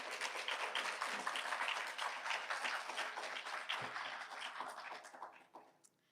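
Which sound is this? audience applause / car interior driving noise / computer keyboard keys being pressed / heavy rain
audience applause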